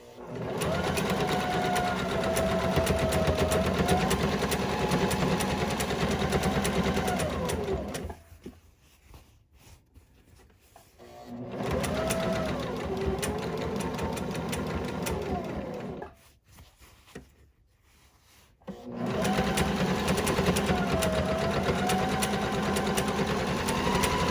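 A sewing machine top stitches a hobo tote bag in steady, fast motor-driven runs, stopping twice for short pauses before resuming, close and loud with no talking.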